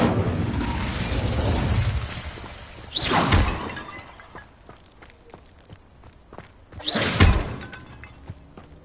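Incendio fire spell in Hogwarts Legacy, two loud whooshing bursts of flame a few seconds apart, each with a roaring rush, amid scattered footsteps and clattering between them.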